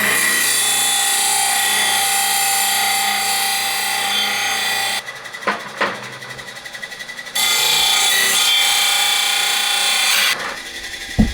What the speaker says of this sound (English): just gonna quick little trip on the disc sander